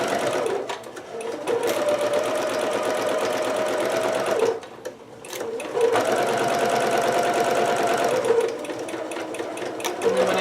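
A sewing machine runs fast, stitching a Pikachu dress with 5/8 seam and back stitching, loud and close, pausing briefly near the middle before whirring on steadily again.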